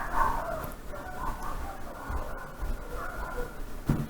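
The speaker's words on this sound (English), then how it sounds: "It sounds like a kennel full of dogs just got, like, set on fire outside" Several dogs in a video game bark and yelp frantically in a chaotic, continuous chorus, loud and close, with no pauses.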